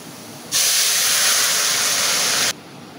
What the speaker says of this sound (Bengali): এখন আমি ডাউলটা তেলে দিয়ে দেব।